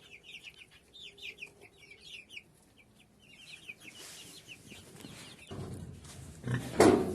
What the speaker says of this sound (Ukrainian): Ось запустив курей.